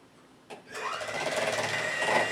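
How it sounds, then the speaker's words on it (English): An electric hand mixer starts with a click and then whirs continuously as it beats homemade mayonnaise in a bowl, close and fairly loud, with slight shifts in pitch as it moves through the mixture. "We're just going to mix this up, and before you know it, this will be mayonnaise."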